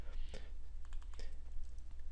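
Quiet computer keyboard typing while writing VBA code: soft, scattered key clicks at an uneven pace over a steady low hum, heard without any talking.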